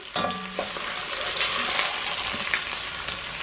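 Jollof rice base fries in a pot with a steady, close sizzle and crackle, and a few soft scraping stirs near the start.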